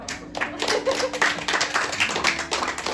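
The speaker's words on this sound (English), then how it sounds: "Oh, we should clap for Kyle." A small group claps hands together in an indoor room, uneven bursts of close, sharp claps running for a few seconds, with some faint talking underneath.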